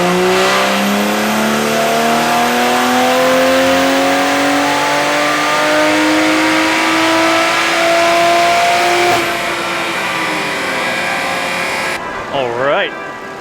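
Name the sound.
BMW B58 Toyota Supra engine revving during dyno run on E50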